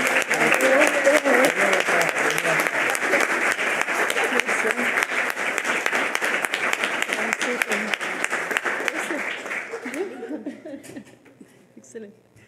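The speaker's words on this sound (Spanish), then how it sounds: "yo creo que se merecen un gran aplauso" A room of attendees at a paleontology awards ceremony in Chile applauds loudly and steadily, with chuckles and voices mixed in, before the clapping fades into talk.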